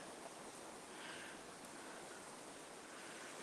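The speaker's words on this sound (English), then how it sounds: "the sound of the water is just lovely and soothing" Steady broadband rush of a flowing river near a Roman bridge, constant and even throughout, with no voices.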